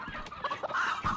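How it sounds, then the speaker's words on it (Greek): Hens cluck in a brief, close burst as they scurry away, the calls rising and falling in quick succession. "Φεύγουν οι κότες"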